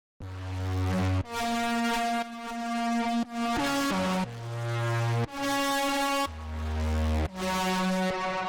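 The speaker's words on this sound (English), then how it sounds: "So the way that I made this sound was with Ableton's analog." Raw, textured synth lead built in Ableton's Analog from a saw wave and a pulse wave, playing long held notes that change about once a second over a low bass, bright, buzzy and loud, without talk.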